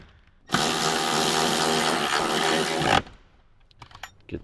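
An impact gun or socket wrench tightens bolts while a Kicker JBL amp bundle goes into a Toyota Tundra, giving one loud, continuous mechanical burst of about two and a half seconds that cuts off abruptly, followed by faint clicks.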